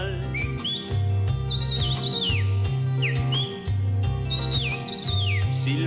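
A human whistle imitates a cardinal's song over a bouncing folk music accompaniment with steady bass, the bird-like phrases rising and falling in short bursts above the band.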